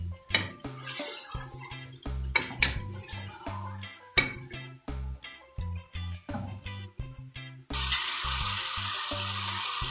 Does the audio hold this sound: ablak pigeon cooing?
no